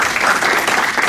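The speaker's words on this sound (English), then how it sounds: "let's give them a round of applause" A dense, steady round of applause from a crowd at a civil-rights organization event, continuous and even throughout the short stretch.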